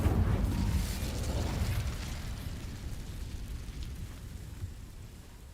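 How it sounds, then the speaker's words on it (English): Incendio fire spell in Hogwarts Legacy burning away a patch of plants: a loud burst of roaring, crackling flame that slowly fades into a steady low rumble, with no voices. "The game took a bit to realize that I had burned away those plants."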